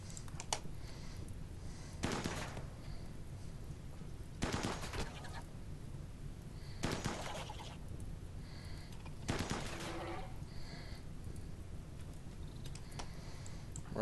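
Colonists in RimWorld fire guns at a turret. Four or five spaced, moderately loud bursts of rapid shots come every couple of seconds over a steady background hum.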